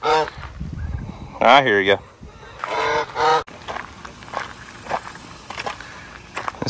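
A goose honks nearby, a short run of loud honks guarding hatched goslings, with someone talking and light footsteps around it.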